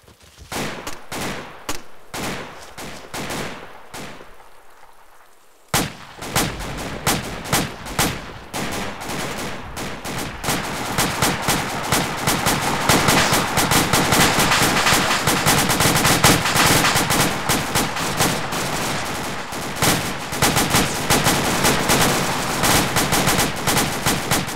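Automatic gunfire in Arma 2 during a beach landing assault on Cresta Pico. A few scattered shots are followed by a brief lull, then dense, continuous machine-gun and rifle bursts rattle on loudly without pause.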